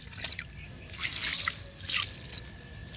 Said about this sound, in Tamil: இதுக்கு மேலே கொஞ்சம் பஞ்சகவ்யா ஊற்றிக்கலாம்